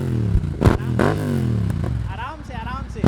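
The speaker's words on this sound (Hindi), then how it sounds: "तो भाई रेव करो" Royal Enfield Interceptor 650 with a Powerage Performance aftermarket exhaust and dB killers removed, blipped in a few quick revs that rise and fall over a throbbing idle, loud and close.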